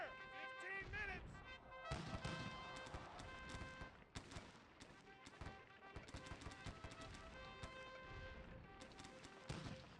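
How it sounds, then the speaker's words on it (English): Artillery fire in Sid Meier's Gettysburg, a Civil War strategy game, as guns shell the 16th Mississippi: repeated sharp cannon booms and crackling volleys over a steady bed of music and battle noise, loud throughout. "Artillery's focusing in on the 16th Mississippi"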